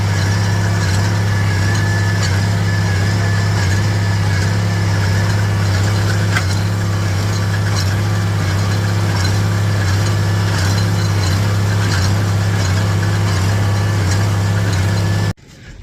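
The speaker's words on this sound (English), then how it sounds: "I'm going to bale this clump here." A tractor engine drones steadily and loudly during hay baling, with a constant low rumble and mechanical clatter that continues unbroken until it cuts off at the very end.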